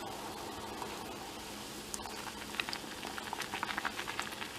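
Thick, milk-white starch stock boils hard in a pot, a dense steady bubbling with scattered louder pops and plops growing more active toward the end, close and alone.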